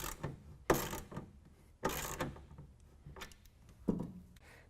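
A 1/2 inch wrench tightening the clamps of a Gator Evo tonneau cover on a Toyota Tundra, several close sharp ratcheting clicks in short bursts with pauses between them.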